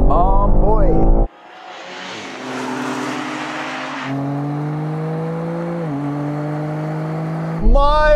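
BMW 3 Series Touring cars, from an Alpina to a diesel and an M3, drag racing from a standing start: loud engine roar climbing through the gears and holding steady for several seconds, framed by brief talk at the start and end.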